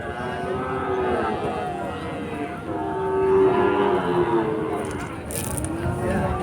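Cattle being brought in and tied up at a livestock market, a dense continuous din of animals and crowd with a drawn-out low call midway, while someone talks over it.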